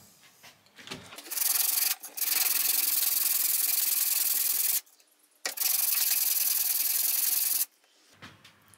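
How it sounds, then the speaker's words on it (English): Knife handle scales being sanded flat on a quarter-inch G10 plate, with long, steady, loud abrasive rubbing strokes broken by short pauses. "go ahead and rough this up so that whenever we're getting ready to glue them to the tang, we actually have a nice scuffed up surface already"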